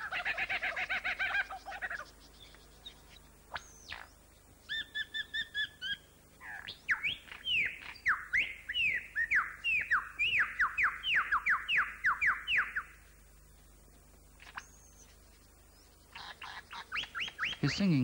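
A lyrebird mimics a varied string of small-bird calls: clear whistles, rapid chattering trills and repeated sweet notes, each phrase changing style, heard close with a quiet Australian rainforest background.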